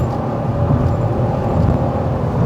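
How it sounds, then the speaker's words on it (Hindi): A Skoda Slavia Ambition 1.0 TSI petrol car builds speed with a loud, steady drone of engine and road noise heard from inside, without talk. "एक बार फिर से हम भगाएंगे, ठीक है, और देखते हैं कितनी बढ़िया भागती है।"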